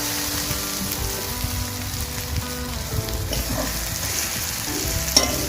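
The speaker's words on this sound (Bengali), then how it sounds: "তোমার ভাজা ভাজা হয়ে গেছে, এবার আদা বাটাটা দিয়ে দিচ্ছি।" Garlic and ginger paste frying in a pan, a dense continuous sizzle with occasional stirring, close and steady, a small clink near the end.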